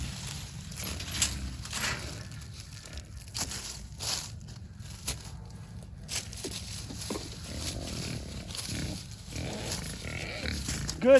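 Pigs grunt and snuffle close by in an outdoor paddock over a rustling background, with scattered movement and a louder snort at the end.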